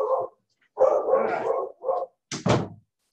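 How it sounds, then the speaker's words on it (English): A dog barks in a few sharp bursts, some short and one longer run, fairly close, with brief silences between them. "Somebody just rang the doorbell and the dog just went nuts, of course."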